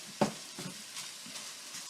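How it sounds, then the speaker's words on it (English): Frying sausage in a pan being mashed and broken up with a hand mashing tool, a sharp scrape followed by softer repeated scraping strokes over a faint steady sizzle. "we're going to grab our good old-fashioned mashing tool here and just mash the hell out of it"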